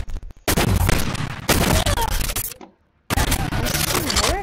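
Weapon fire in the online egg-shooter game Shell Shockers with a rocket launcher selected, loud bursts of rapid blasts in three dense bands separated by a brief silent gap, with voices mixed in.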